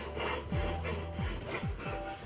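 Rhythmic scraping strokes of an onion rubbed back and forth across a greasy grill grate, about four passes with soft sizzling underneath, quiet and close.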